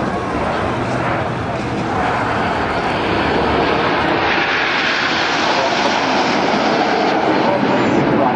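Red Arrows jets passing overhead at the Southport Airshow, a loud, continuous broadband roar that holds steady and builds slightly across the stretch, with a commentator's voice faintly underneath.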